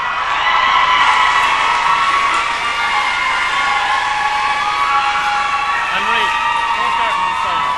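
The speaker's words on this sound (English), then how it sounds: "So give her a big round of applause, please." Crowd noise fills a hall at the Scór na nÓg All Ireland Final, a dense wash of applause and cheering with a few shouts rising above it, steady and loud throughout.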